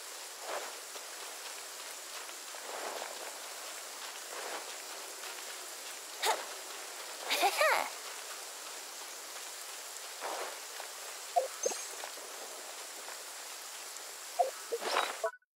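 Steady rain patters softly across a surface in Genshin Impact, a constant hiss broken by a few louder drips and rustles.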